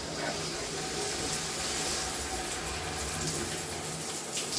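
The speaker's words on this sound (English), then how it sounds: "turn on the water, make sure it's on the rain head setting" Water pours from a shower rain head that is leaking, making a continuous, fairly close hiss of spray and splashing that stays even throughout.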